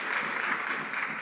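Applause in the Canadian House of Commons during a sitting, a brief, steady patter of members clapping and desk-thumping heard at moderate distance for about a second.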